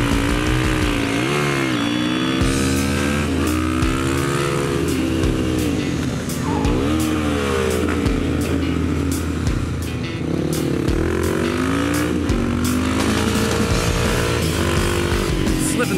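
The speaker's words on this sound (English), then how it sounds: "Slipping the shit out of my clutch to get that thing to rev up so this guy stays behind me" A race car on a track revving hard with a slipping clutch, engine pitch sweeping up and down in long wavering rises, loud and close, with tire noise and talk over it.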